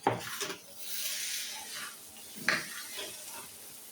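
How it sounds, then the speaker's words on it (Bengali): Noodles with spices being stirred in a frying pan, a soft scraping and sizzling texture with a few sharper clinks of the utensil against the pan, quiet and close. "একটু সমস্ত নুডলসটা নাড়াচাড়া করে দিলাম"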